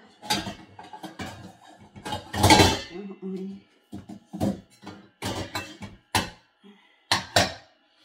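Metal frying pans and lids for pancakes handled in a home kitchen, intermittent clanks and clatters of cookware between bursts of a person talking.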